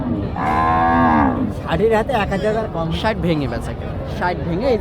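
A black crossbred beef cow moos once loudly and close at a rural cattle market, a long tonal low call, followed by someone talking over faint background noise.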